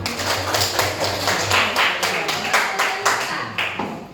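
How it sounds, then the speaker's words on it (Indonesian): Classroom group claps in rough unison, a series of about ten rhythmic bursts of hand claps at a moderate distance, with faint voices underneath. "tepuk tangan untuk kita semua"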